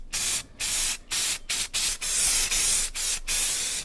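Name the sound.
spray paint sprayed onto car emblems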